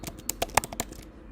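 Quick burst of about eight crisp keystrokes on a computer keyboard, typing a search for an exponential moving average indicator, close and clear with no voices.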